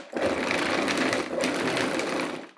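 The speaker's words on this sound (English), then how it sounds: "I'm ready to blend again." A food processor blends hemp protein bar ingredients with cinnamon powder, whirring in one steady loud burst that starts abruptly, briefly dips, and winds down at the end.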